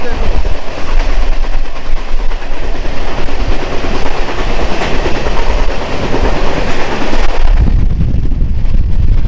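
Inside a moving train on a Siliguri to Puri journey, a loud steady rumble and rattle of the carriage fills the whole stretch, with rhythmic clickety-clack of wheels on rails and wind buffeting the microphone.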